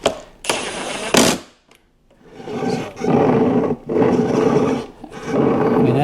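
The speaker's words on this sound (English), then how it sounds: "that sounds like a pretty cheap plastic drivetrain in there" An electric Snow Joe snowblower with a cheap plastic drivetrain running close by, a rough grinding roar that surges in bursts, drops out for a moment and then churns on steadily.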